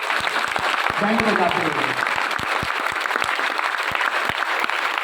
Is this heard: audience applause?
yes